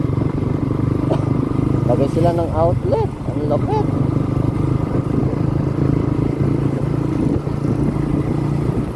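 Motorcycle engines drone steadily nearby as a rider travels, with people talking briefly over the engine noise.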